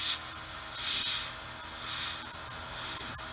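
An airbrush sprays Badger Stynylrez black primer in short hissing bursts, three separate puffs of air and paint with quiet gaps between, close to the mic.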